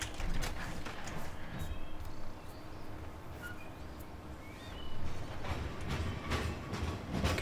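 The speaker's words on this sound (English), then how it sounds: "Can even hear the train." A train departing in Farming Simulator 2015 rolls along with a continuous low rumble and rhythmic clacking, moderately loud and steady, with occasional squeaks.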